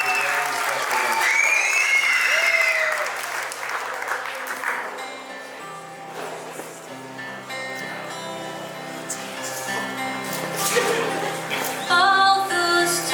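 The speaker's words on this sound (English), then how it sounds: "Let us give them a big, big round of applause." Guests at a wedding reception clap continuously under loud playing music. The applause stays steady and blended with the song throughout.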